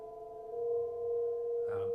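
A Bastl Kastl synth fed through a Koma spring reverb with heavy feedback holds a steady, quiet droning tone with stacked harmonics, swelling slightly before a brief grainy flutter at the end.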